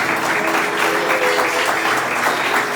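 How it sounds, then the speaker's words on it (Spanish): Applause from a church congregation during a worship service forms a sustained, even wash of many hands clapping, steady and fairly loud throughout. "Levántale un aplauso al Señor."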